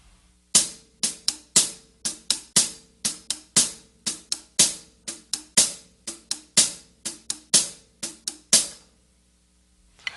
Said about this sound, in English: Now we're going to move on to another complex hi-hat pattern.